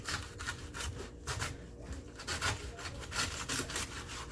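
A dull kitchen knife sawing through a head of cabbage, a continuous crunchy, scraping rasp with repeated back-and-forth strokes, close and fairly steady throughout.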